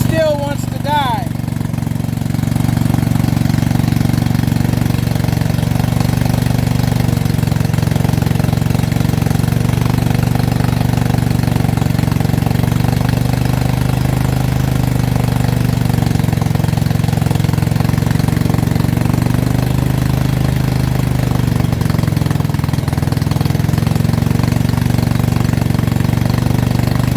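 A Dixie Chopper mower engine idles roughly with an uneven pop, struggling to hold its idle as if about to stall; steady, close, loud mechanical drone throughout, with a brief louder start at the beginning.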